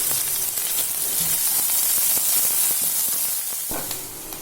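Sliced onions and green chillies frying in hot oil in a pan for Tamil egg thokku, giving a steady close sizzling hiss with a few brief crackles.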